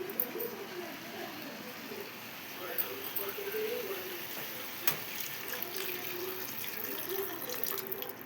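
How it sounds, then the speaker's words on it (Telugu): Water runs from a tap into a pot of broad beans being cooked, a faint steady trickle with light splashing, while birds coo softly in the background. "కొంచెం వాటర్ అయితే పోసుకోవాలి."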